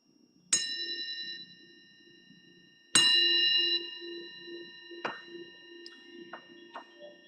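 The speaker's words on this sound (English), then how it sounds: "the bell invites us to bring our awareness back to the surface" A meditation bell rings clearly twice, each strike a bright metallic tone with a long, slowly fading ring, followed by a few softer, shorter chimes in a quiet room.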